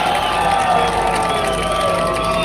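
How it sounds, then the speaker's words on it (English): A large outdoor crowd at a Singapore general election rally in Sembawang cheers and shouts in a continuous, loud roar with applause mixed in, voices blending into a steady wall of sound. "Let's give him a big round of applause!"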